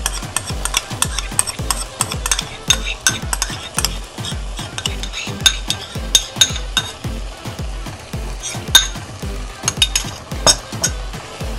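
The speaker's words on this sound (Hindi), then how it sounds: "एक से 2 मिनट तक इसे घी में भूनते हैं" Grated bottle gourd halwa frying in ghee over a high flame, stirred steadily with a spoon scraping the pan in a regular rhythm under a constant sizzle, close and fairly loud, with no talking.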